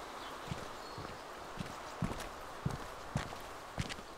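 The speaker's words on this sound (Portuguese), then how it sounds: "Tô escutando alguém correndo aqui ao redor." Footsteps of someone running nearby in the video game DayZ, a steady series of soft low thuds roughly every half second over a noisy background, fairly faint.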